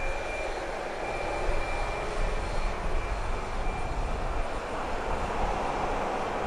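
Boeing 737 MAX 8 jet engines at Grand Cayman airport, a loud, continuous broadband roar with a faint steady whine, holding level throughout with no talking.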